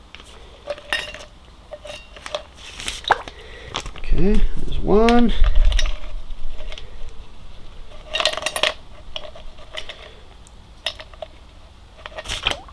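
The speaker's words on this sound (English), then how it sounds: "I'll put some ice cubes in it." Ice cubes clinking and clattering as they drop into a plastic hydration bladder held open by hand, a few scattered knocks over several seconds, with someone talking throughout.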